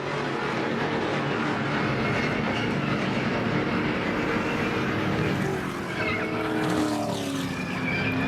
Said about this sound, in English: another late hit right there with McMurray unable to get the car stopped